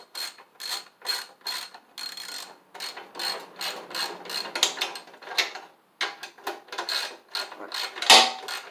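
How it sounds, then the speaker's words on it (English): A ratchet wrench tightens a bolt back onto an old Snapper Hi-Vac mower, giving rapid, close metallic clicking in short repeated bursts with brief pauses between strokes. "Now I'm going to take my ratchet and put that bolt back on."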